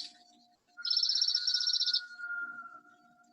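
A bird gives one bright, rapid trill of fast repeated high notes lasting about a second, then a thinner sustained whistle-like tone fades out, heard alone against quiet background.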